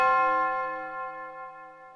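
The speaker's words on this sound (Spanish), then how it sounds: "Toque a campana tañida." A single bell tolls once, a clear ringing strike that hums with a sustained metallic tone and slowly fades over a couple of seconds, heard alone.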